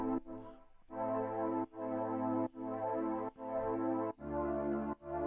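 A beat sample with sidechain ducking: sustained harmonic chords and a low bass layer pump in regular volume dips about every 0.8 seconds, loud and upfront with no talking.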